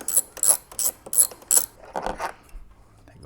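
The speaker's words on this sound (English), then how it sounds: "these take a T25 Torx to take them off." A T25 Torx driver loosens the fairing bolts on a Harley Batwing with a close, rapid series of ratcheting clicks that come in short rhythmic bursts, then stop, with no talking.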